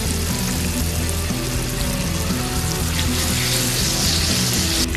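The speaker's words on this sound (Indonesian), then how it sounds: "Lalu goreng terong yang sudah diberikan kocokan telur tadi." Eggplant coated in beaten egg sizzles and crackles in hot oil, a dense, loud, continuous frying hiss with no voices over it.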